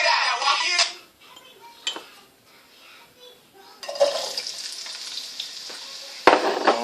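Onion hitting a hot pan for a chicken, cauliflower and carrot stir fry, bursting into a loud crackling sizzle that fades, then flares up again with bright spitting and a sharp clatter of the utensil.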